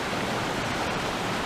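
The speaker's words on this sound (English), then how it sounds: "so this is the creek, like I told you." Creek water rushes steadily near waterfalls, a close, loud, even broadband flow with no breaks and no voices.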